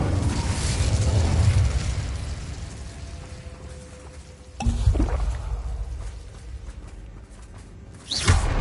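In Hogwarts Legacy, an Incendio fire spell is cast amid game combat. A dense rumbling roar fades, then a sharp blast hits around midway and another surge comes near the end, loud and close.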